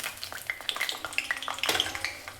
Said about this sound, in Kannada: ಸುಮಾರು ಒಂದು 3-4 ನಿಮಿಷಗಳ ಕಾಲ ಇದನ್ನ ಎಣ್ಣೆಯಲ್ಲಿ ಚೆನ್ನಾಗಿ ಫ್ರೈ ಮಾಡ್ಕೋಬೇಕು